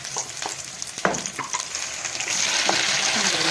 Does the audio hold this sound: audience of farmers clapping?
no